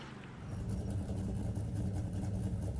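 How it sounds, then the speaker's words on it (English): A car engine in the video game FiveM rumbles and revs up, a steady mid-pitched drone that swells after a quieter start and holds close and loud. "I thought I heard a car."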